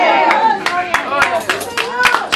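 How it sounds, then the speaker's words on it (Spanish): Recorded applause plays back during a church sermon: a stretch of quick, uneven clapping from a small crowd, heard under a voice. "Yo tengo mis aplausos grabados ahí."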